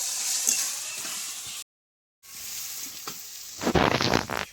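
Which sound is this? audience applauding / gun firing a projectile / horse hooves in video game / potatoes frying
potatoes frying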